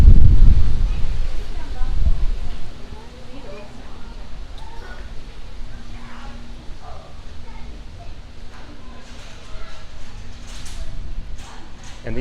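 Wind gusting across the microphone by the Seven Seas Lagoon at Disney's Polynesian Village Resort, a heavy low rumble at first that eases into a steadier outdoor whoosh, with a voice talking over it.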